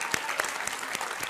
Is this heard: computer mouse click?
no